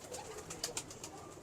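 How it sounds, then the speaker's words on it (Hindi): A jumbo-size, long-kept mixed-breed pigeon gives a few soft, rolling coos, faint and slightly distant against a low background hiss. "बड़ा जंबो साइज कबूतर है"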